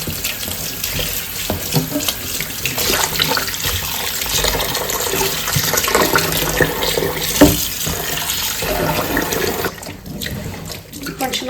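Tap water runs steadily into a sink while wheat dough is washed in a sieve to draw out the gluten, a continuous hissing splash that briefly quiets near the end.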